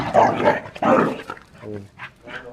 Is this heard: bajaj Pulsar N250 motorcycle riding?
no